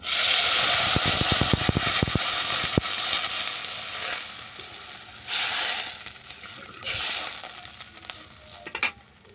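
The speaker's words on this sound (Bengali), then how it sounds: "আলুটাও বাদামি করে ভাজা হয়ে গেছে, এরপর দিয়ে দিচ্ছি পরিমাণ মতো জল।" Water poured onto browned fried potatoes in a hot pan gives a loud, close burst of sizzling and hissing steam, then quieter bubbling with stirring and a few utensil scrapes.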